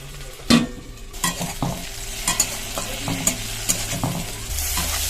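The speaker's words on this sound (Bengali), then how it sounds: "এবার এর মধ্যে দিয়ে দেবো একটা টমেটো কুচি। নাড়াচাড়া দিয়ে আবার ঢাকনা চাপা দিয়ে দেবো।" Eggplant and chopped tomato are stirred in a pan, giving a soft continuous sizzle. Scraping strokes and knocks of the spoon come at an irregular rhythm, close up, and no one talks.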